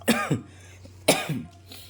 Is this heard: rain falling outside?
no